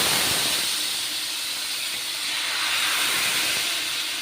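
Rice flour dosa batter hitting a very hot iron tava gives a loud, steady, hissing sizzle that holds evenly throughout, with no voices.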